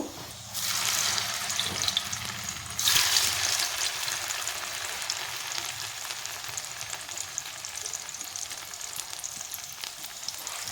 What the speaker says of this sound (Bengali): এইভাবে ভেজে নেব ডিমগুলো